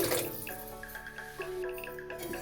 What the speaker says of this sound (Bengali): আরও কিছুটা জল একবারে দিয়ে দিচ্ছি